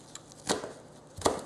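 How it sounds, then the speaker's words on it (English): A knife roughly chops fresh mint on a cutting board while making beef stock: two distinct, close, crisp chops spaced under a second apart, with no talking. "just roughly chopping that up and putting that in"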